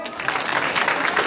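Temple audience at a Tulsi Vivah celebration in a Hindu mandir in Leicester clapping together, a steady burst of close, dense applause with light crowd murmur underneath.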